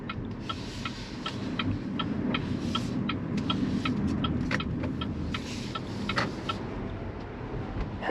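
A 2024 BYD Seal Performance AWD electric car drives through city streets, giving a steady low road and tyre rumble inside the cabin with faint periodic ticking and rattles above it, no voices.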